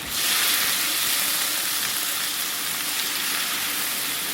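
Mutton brain masala sizzles steadily in a hot pan, a loud continuous frying hiss with faint scraping as it is stirred, close and without speech.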